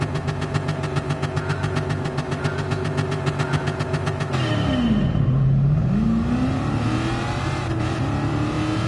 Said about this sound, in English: Yeah, the engine sounds good.